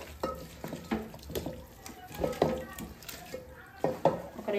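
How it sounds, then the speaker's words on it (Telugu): Chicken pieces are mixed with salt, chilli powder and masala in a metal vessel, producing close, intermittent scraping and clinking stirs with soft wet squelches, fairly quiet overall. "ఒక 2-3 నిమిషాలు బాగా ఇలాగే కలుపుకోవాలి చికెన్కి."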